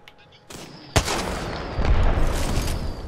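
Grenade blast and bursts of gunfire in a shooter video game: a sharp loud explosion cracks out, followed by dense, rolling rapid shots and rumbling booms, with faint voice chat underneath.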